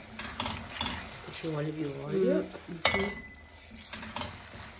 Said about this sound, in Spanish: con la temperatura caliente del aceite se va a freír